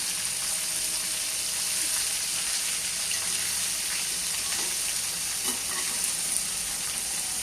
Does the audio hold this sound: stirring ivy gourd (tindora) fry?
yes